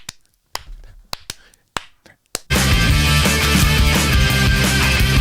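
Sharp, isolated claps or snaps ring out in a sparse pattern for about two seconds, then a loud, dense record kicks in, pop production from Gay Bar carrying on without a break under the full mix.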